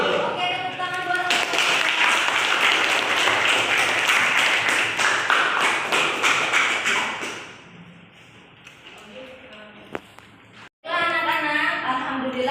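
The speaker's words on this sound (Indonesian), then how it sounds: "Oke, tepuk tangan buat" Applause for children at a school vegetable harvest and post-harvest lesson, a dense burst of clapping lasting several seconds before fading, with voices over it.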